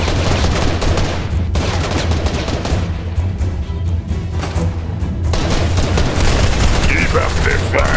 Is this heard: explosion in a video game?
yes